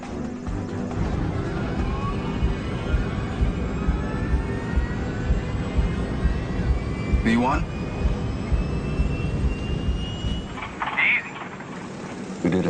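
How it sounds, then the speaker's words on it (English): Jet engines of Air Florida Flight 90, a Boeing 737, recorded by the cockpit voice recorder in winter conditions, a continuous roar with rising whine tones, heard under brief cockpit speech. "the sound of the engines is recorded in the background on the cockpit voice recorder"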